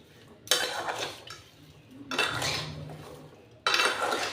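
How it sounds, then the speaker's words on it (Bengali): A spoon mixes raw green mango pickle in a metal bowl, producing three close bursts of scraping, clinking stirring separated by short pauses, with no one speaking. "সবগুলো মিশিয়ে নিচ্ছি।"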